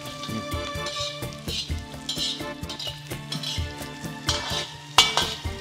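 Onions fry and sizzle in a pan while a heavy ladle stirs them, giving repeated close metallic scrapes and knocks with a sharp clang near the end.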